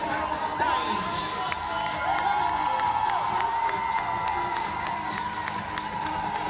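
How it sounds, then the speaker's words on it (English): Crowd at a bodybuilding competition in Brisbane cheering, whooping and shouting loudly and continuously as competitors flex on stage, a dense roar of voices with sharp individual yells. "so good hearing the crowd going nuts"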